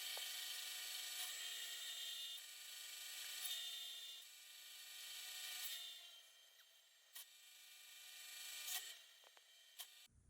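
A high, raspy grinding of a drill press with a carbide bit biting into hardened steel, steady with brief pauses and small bumps, ending in a short clunk.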